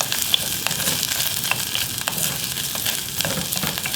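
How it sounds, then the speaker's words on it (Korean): Green onion and meat stir-frying in a frying pan, a steady close sizzle with occasional scraping stirs and no talking. "파를 볶다가 고기를 볶을 거예요"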